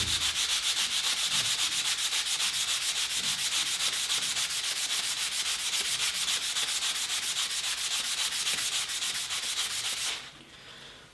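A ceramic honing rod is scrubbed dry with Vim Clorex cleaning powder, a fast, steady rasping rub that repeats in tight strokes close up before stopping abruptly near the end.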